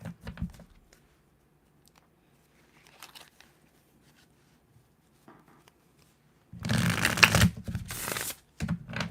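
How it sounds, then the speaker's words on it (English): Tarot cards are shuffled by hand, a few soft riffling flicks early on, then a loud, close, sustained riffle and bridge near the end. "That was like the weirdest sounding shuffle."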